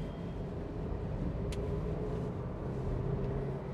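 A car engine held below 3000 RPM while driving produces a constant low rumble with road noise inside the cabin, steady and unbroken.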